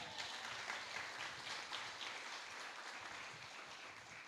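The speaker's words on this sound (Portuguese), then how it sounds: "você pode aplaudir o Senhor?" Church congregation applauding in praise during a worship service, a steady dense wash of many hands clapping, fairly loud and continuous throughout with no speech over it.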